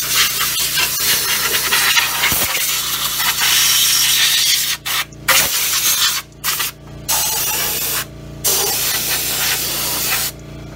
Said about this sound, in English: That air compressor build up a little bit more.